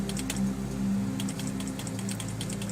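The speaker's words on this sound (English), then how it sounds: "I gotta use the keyboard for this." Rapid bursts of keystrokes on a computer keyboard during video editing, close and crisp, clustered at the start and again in the latter half over a steady low electrical hum.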